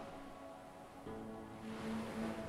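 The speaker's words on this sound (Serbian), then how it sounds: "Zvuk vode doveo vas je do najdubljeg stanja mira u meditaciji." Gentle ocean waves wash steadily over the shore, soft and distant, with a faint tonal hum beneath and no voices.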